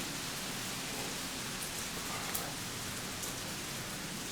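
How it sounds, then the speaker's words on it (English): Steady rain pours down on an open-air outdoor shower at a Maldives resort, a dense, even hiss of drops spattering on surfaces, close and continuous with no voices. "I didn't foresee this rain."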